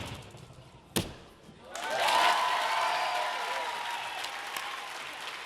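Partisan home crowd at a Hungarian World Challenge Cup gymnastics event in Szombathely breaks into loud, sustained applause and cheering for a local male gymnast, following a sharp thud, then gradually easing.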